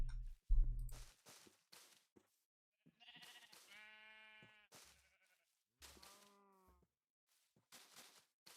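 Minecraft sheep bleat several times in short, harmonic cries spaced across the stretch, with soft game footsteps and small clicks between them and no talking.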